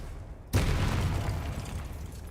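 A Confringo spell explodes in the video game Hogwarts Legacy, giving one sudden loud boom that rolls into a sustained roaring rumble with no voices.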